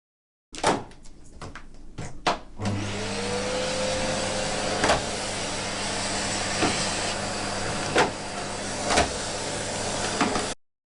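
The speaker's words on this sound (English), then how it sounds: "vacuum cleaner" A vacuum cleaner starts after a few clicks and handling knocks. Its motor spins up and settles into a steady, close, whining drone that runs for several seconds, with occasional bumps, before cutting off.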